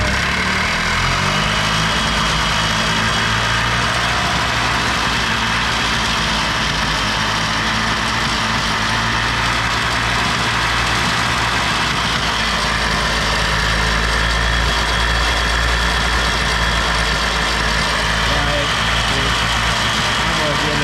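A worn-out golf cart's small engine runs loudly and continuously, a dense rumbling drone close by with a fresh clutch, while someone talks over it.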